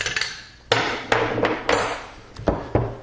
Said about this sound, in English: we'll flip it over and the elevator comes right out just by squeezing it together